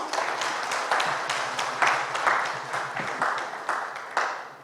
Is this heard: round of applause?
yes